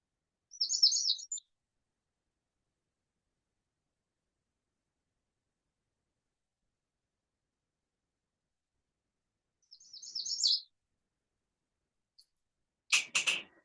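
Warbler song played from a recording: two brief high, rapid trilled phrases about nine seconds apart, each lasting under a second, in near silence, followed by a short clicking noise at the end.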